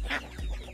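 Appenzeller Barthuhn fancy hens cluck close by in a short burst, soft fowl calls over a low background rumble.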